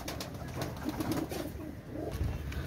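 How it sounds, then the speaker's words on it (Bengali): A black Saharanpuri female pigeon gives soft, low coos with light rustling nearby, close and fairly quiet, with no one talking. "দেখেন ভিউয়ার্স, খুবই চঞ্চল কবুতর, ব্ল্যাক সাহারানপুরি মাদি"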